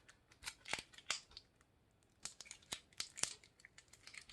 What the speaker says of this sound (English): take a piece of tape and tape it